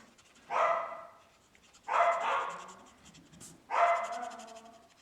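Dogs bark three times at close range, each a loud, ringing bark separated by short pauses, with faint background noise between them.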